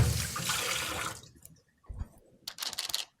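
Running water splashes over hands in a kitchen while chickpea cookie dough is being shaped, a steady rush that stops, followed by a few brief wet rubbing and dripping sounds.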